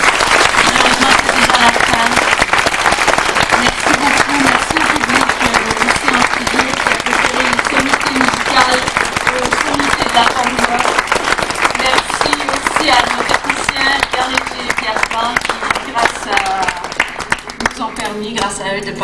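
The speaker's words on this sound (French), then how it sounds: "On peut l'applaudir." An audience breaks into sustained, dense applause after an interview, loud and continuous for the whole stretch with a faint voice or music murmuring beneath before it tapers slightly at the end.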